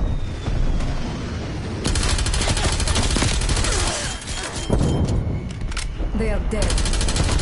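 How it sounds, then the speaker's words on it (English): Hostile strafe-run gunfire in Call of Duty Cold War: sustained, heavy automatic fire with booming impacts that rattles on for several seconds, loud and close. "Hostile strafe run inbound."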